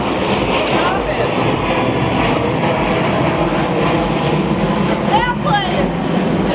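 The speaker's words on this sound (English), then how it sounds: "Airplane!" A fixed-wing airplane passes overhead as a loud, continuous engine roar that fills the whole stretch, with people talking over it.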